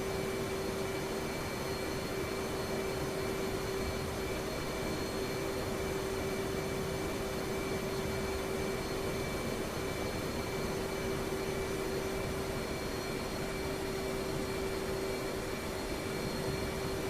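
F/A-18D jet taxiing to the runway in the DCS flight simulator, a steady engine whine with a constant tonal hum held unchanged throughout, loud and continuous with no talk.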